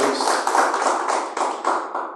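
Church congregation clapping for Jesus during a Portuguese-language service, a steady, dense burst of many hands close by with a rhythmic pulse, lasting about two seconds without talk.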